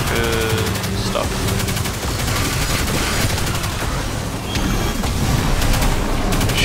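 Weapons fire during a two-player Caretaker encounter in Vow of the Disciple, the Destiny 2 raid, as rapid bursts and sustained volleys blend into a dense, loud barrage of game combat effects.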